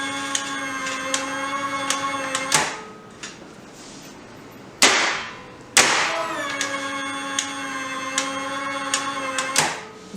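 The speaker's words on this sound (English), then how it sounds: "At first, we trip the breaker manually." Hyundai HGN16 air circuit breaker on a test bench with a 220-volt AC supply, tripped by hand: a steady mechanical hum ends abruptly, followed by sharp loud clacks near 5 and 6 seconds before the hum resumes.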